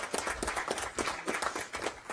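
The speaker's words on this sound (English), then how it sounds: "would y'all give her a big round of applause?" Applause breaks out at a school district board meeting, a modest group clapping in a loose, uneven rhythm with sharp individual claps standing out over a busy room background.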